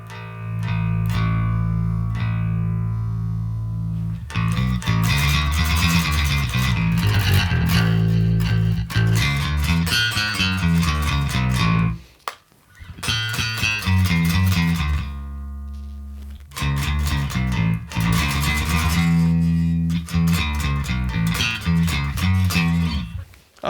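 A California-style bass guitar played through a bass amp simulator on an iPad, with sustained low notes and plucked phrases, a brief pause near the middle, then more playing.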